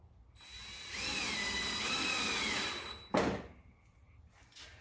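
A power drill drives a screw into a wooden wall for a live edge countertop build, a close whining buzz of about two seconds that rises slightly in pitch, then a sharp knock and a few faint handling sounds.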